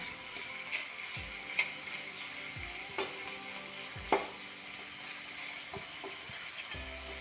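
Carrot frying in a pan as it is turned over, a soft continuous sizzle with a few light scrapes and knocks of the utensil spaced a second or so apart, close by and fairly quiet.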